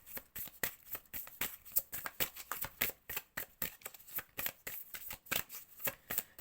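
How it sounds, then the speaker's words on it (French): Playing cards being shuffled and drawn for a tarot-style love reading, a steady run of crisp riffling snaps in a quick repeating rhythm, close and fairly quiet, with no talking. "Je vais prendre encore 2 cartes."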